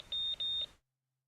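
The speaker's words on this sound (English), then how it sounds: "A constant nagging noise draws her attention. On a second glance, you see a man on the car's video phone shouting angrily." Two short, sharp electronic beeps from a car's video phone in the game Zenless Zone Zero, a high clean tone repeated quickly and then cut to silence, close and alone.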